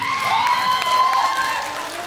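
An audience claps and cheers together, a steady close wash of applause with some shouts, lasting about two seconds without a break.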